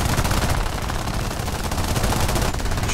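Rapid, sustained machine-gun fire from a P-36A fighter in the War Thunder air combat game, dense and loud, running without a break for the whole stretch.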